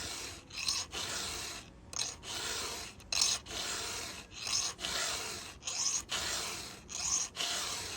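A file rasps across the top plate of a chainsaw chain cutter in steady, rhythmic back-and-forth strokes, about a dozen close scraping passes with short pauses between them, and no talking.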